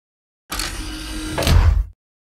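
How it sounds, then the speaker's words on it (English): Heavy outer doors slide open in one continuous mechanical rush, building to a louder low rumbling thud as they finish, close and alone. "Opening the outer doors."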